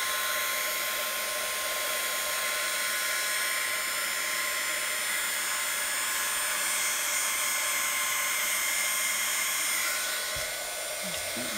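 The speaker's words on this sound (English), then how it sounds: "put my heat gun on it." A heat gun blows hot air onto acrylic paint in a negative pour, a steady loud whooshing whine that runs continuously and drops slightly near the end, with no talking.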